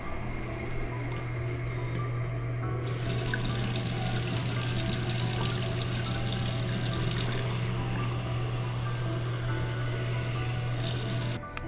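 Motel tap running water into a cup, a steady splashing stream that grows brighter for most of the span and stops near the end, over a constant low hum.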